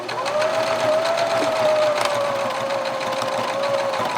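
Sewing machine back-stitching a nameplate onto a football jersey, a loud, close, continuous motor whir with a steady mechanical rattle running unbroken throughout.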